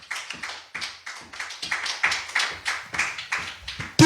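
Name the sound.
congregation applauding for the Holy Spirit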